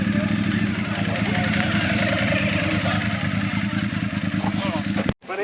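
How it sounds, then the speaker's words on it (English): A Ducati motorcycle engine idles and clatters steadily at a car show, loud and close for about five seconds, with a brief break at the end and crowd noise underneath. "And also this Ducati motorcycle."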